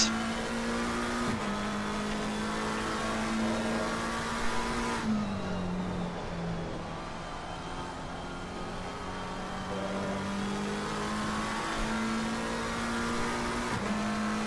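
A Porsche Cup race car drones loudly from onboard as it laps a wet Imola track, its engine note holding steady with shifts and dips through gear changes and a constant spray and road roar underneath.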